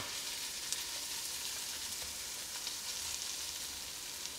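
Onions and garlic frying in a pan for marinara sauce, a soft, even sizzle with faint crackling that runs steadily throughout at low volume, no voices.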